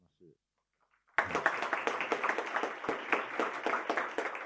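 A quiet hall goes silent, then an audience at a Japanese public-sector innovation symposium breaks into sustained applause for the panelists and moderator, many hands clapping in a dense, even wash that continues to the end.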